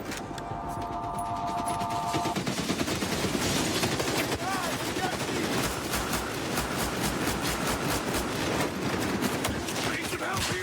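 Rapid bursts of automatic gunfire in Battlefield Hardline, dense and continuous throughout, with shouted voices in the fight mixed over the shooting.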